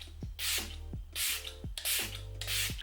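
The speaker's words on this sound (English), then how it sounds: "This is the Cherry Blossom," Cherry Blossom makeup fixing spray mists out in three short, close bursts, each a bright airy hiss preceded by a small pump click, with brief gaps between.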